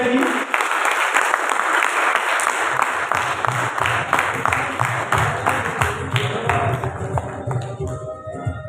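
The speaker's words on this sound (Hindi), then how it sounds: "भरपूर अंदाज में क्लैप कीजिए" A crowd claps steadily for a guest of honour at a gathering in Abbottabad, dense sustained applause with scattered sharper claps, thinning slightly toward the end.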